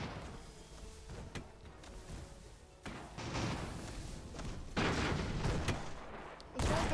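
Heavy main guns boom in the airship battle game Airship Conquer the Skies, with a few sharp cracks followed by louder, sustained bursts of rumbling fire layered over noisy combat.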